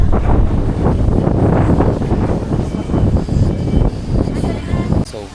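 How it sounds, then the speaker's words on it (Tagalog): Strong, steady wind buffeting the microphone in a loud, continuous roar on Bulabog Beach, Boracay, with a voice faintly audible under it. "lakad-lakad muna sa Bulabog Beach. Lakas yung hangin."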